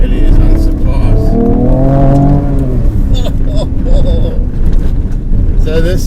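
A Ford Ranger Raptor on BF Goodrich tyres drives fast over gravel, with loud continuous cabin rumble and tyre roar while someone talks over it.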